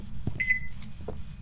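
A microwave oven beeps inside a ghost-hunting video game: one short electronic tone over a low hum, followed by a faint knock.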